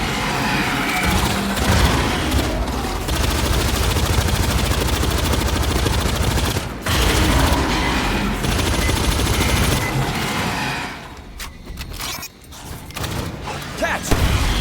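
Grenade blast amid the sustained gunfire and mechanical din of the sci-fi shooter Aliens Fireteam Elite 2, heavy and continuous with a brief drop and a thudding burst near the end.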